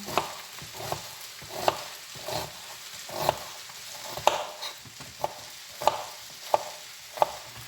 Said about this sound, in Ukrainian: Так, ось так смажились трошки мої баклажани.